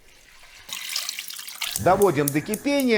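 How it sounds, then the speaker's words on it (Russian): Water pours steadily into a pot, starting softly then growing fuller, while a person speaks over it. "Заливаем водой."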